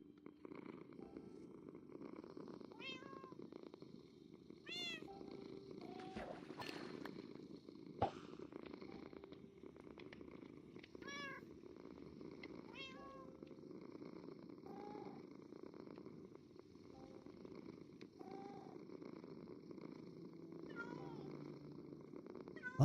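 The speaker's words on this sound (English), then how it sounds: "I like the sound of the meowing cats better than the barking dogs." Cats in the video game Minecraft meow repeatedly over a steady low purring, the short mewing calls scattered throughout at moderate volume against a soft continuous background.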